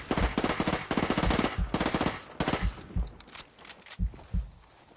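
SMG fire in the shooter game Ghost Recon Wildlands comes in rapid automatic bursts with sharp repeated cracks and short gaps between strings of shots, loud and close, with no talking.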